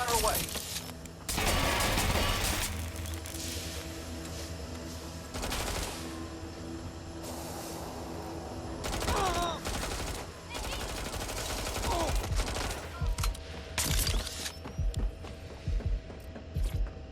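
Bursts of gunfire in Watch Dogs: Legion during a boss confrontation, mixed with mechanical clanks and whirring game effects, recurring in loud clusters over a steady background hum.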